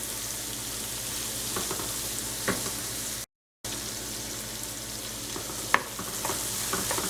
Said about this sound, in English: So we're just going to saute our onions for a few minutes.